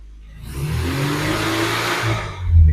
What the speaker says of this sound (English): It's running okay. That's the idle's not too bad.